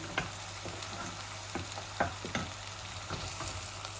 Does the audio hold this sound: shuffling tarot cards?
no